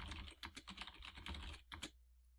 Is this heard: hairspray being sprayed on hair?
no